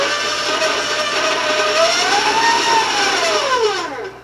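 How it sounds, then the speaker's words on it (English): A hand-held electric mixer creams butter for coconut cookie bars, a steady loud whirring drone with a pitch that rises and falls as the beaters work, cutting off near the end. "I'm going to warn you about the sound of my mixer."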